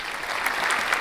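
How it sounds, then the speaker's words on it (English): Steady audience applause for Joshua Trundle fills a short moment in a live broadcast studio, a dense wash of clapping without pauses. "You know we gotta get everybody to applaud for Joshua Trundle in the building."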